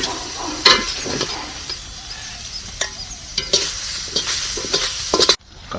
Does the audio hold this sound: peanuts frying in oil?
yes